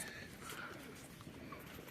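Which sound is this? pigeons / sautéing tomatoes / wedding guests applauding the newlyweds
pigeons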